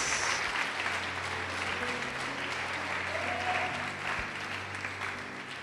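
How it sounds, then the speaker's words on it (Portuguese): A church congregation applauds together during a sermon, a steady wash of clapping from many hands that carries on evenly for several seconds, with a faint low hum underneath. "Vamos aplaudir o Senhor, vamos glorificar Deus."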